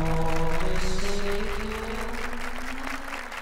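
Studio audience applauding during a television interview show, steady clapping mixed with a sustained musical tone that fades slightly toward the end.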